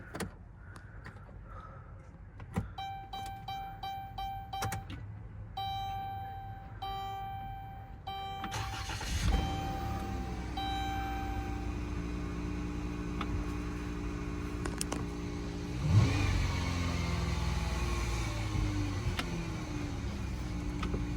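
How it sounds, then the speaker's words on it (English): A 2016 Dodge Grand Caravan SXT is started with the key: a series of soft dashboard chimes comes first, then the engine cranks and catches and settles into a steady, close, even idle. "Let's go ahead, fire this one up. Just insert the key over here."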